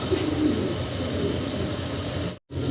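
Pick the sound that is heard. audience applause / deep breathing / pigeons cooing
pigeons cooing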